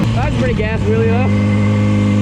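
Yamaha R6 sport motorcycle engine held at a steady mid-pitched drone during a wheelie, loud and close, with a voice talking over the first second or so.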